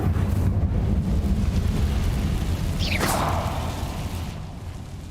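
The Incendio fire spell is cast in Hogwarts Legacy: a sharp, rising whoosh bursts out midway over a constant rumbling, wind-like game background.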